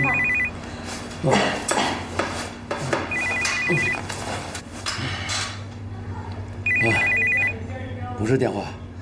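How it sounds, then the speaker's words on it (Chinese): An alarm clock rings in short electronic bursts, three separate rings spaced a few seconds apart, with people talking and moving about in between. "是闹钟。"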